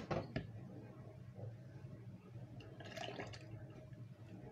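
Melted butter, about 100 g, poured into a batter in a bowl, giving a soft, low liquid trickle and glug with a few faint splashy drips, quiet and close.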